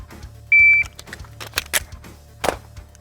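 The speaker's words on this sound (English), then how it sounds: "So the beep is my go." A short electronic shot-timer beep sounds, followed a moment later by a few sharp, cracking gunshots at irregular intervals during a shooting drill.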